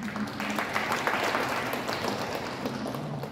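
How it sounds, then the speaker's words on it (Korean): Audience applause at a Korean community gathering, a steady wash of clapping from a crowd held at an even level for a few seconds, with faint voices murmuring beneath it. "열심히 활동하시는 것에 대해서 큰 박수 보내드리겠습니다"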